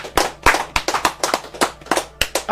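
An audience claps in sharp, fairly steady rhythmic bursts, loud and close, with roughly a dozen distinct claps and no voices.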